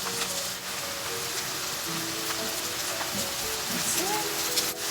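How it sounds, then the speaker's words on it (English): Onions, ginger and garlic sauté in a pan, giving a continuous, close crackling sizzle like light rain that holds evenly throughout. "So it gets, you know, fried along with the onions. So it's getting brown slowly."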